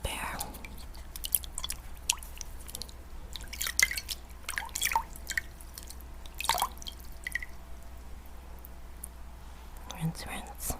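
Lepidolite crystals rinsed in water, with soft close drips and wet handling sounds under quiet whispering.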